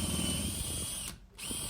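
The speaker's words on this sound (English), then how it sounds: "I drilled the holes from inside square to the planking" A power drill whines steadily while boring fastening holes through wooden engine beds in a carvel-planked boat hull, loud and close, stopping briefly before spinning up again.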